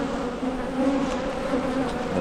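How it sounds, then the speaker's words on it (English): A dense mass of honey bees fanning at a hive after an artificial swarm split, a steady close buzzing drone that holds evenly throughout with no voices. "There are a lot of bees here, and they're all fanning."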